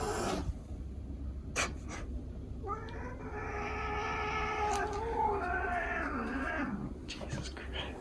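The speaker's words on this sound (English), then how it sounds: "Cat fight." Cats fight outside a lodge, one letting out a long, wavering caterwaul that rises and falls for several seconds over a steady background hum, with a few sharp clicks around it.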